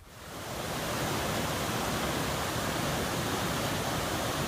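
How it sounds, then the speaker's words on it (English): Browns Creek Falls waterfall on the Colorado Trail, a steady, loud broadband roar of falling water that swells in over the first half second and then holds constant and close, with no voices. "I'm at Browns Creek Falls."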